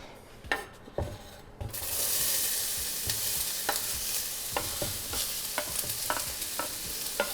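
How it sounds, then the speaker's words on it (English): Onions dropped into hot, lightly smoking vegetable oil burst into a loud, steady sizzle after a few knocks, with regular spatula scrapes and clinks against the pan throughout. "I'm gonna go ahead and add those onions"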